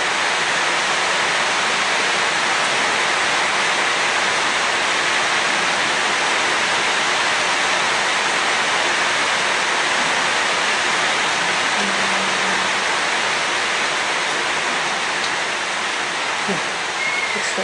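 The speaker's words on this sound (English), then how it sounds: "This rain should stop." Heavy rain pouring down steadily, a dense unbroken hiss that stays loud and close from start to finish, with no voices.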